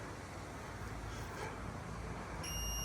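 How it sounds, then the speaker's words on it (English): Near the end, an Opel car gives a single short electronic beep. Before it there is only a low, steady hiss of background noise. "I like the beeping noise."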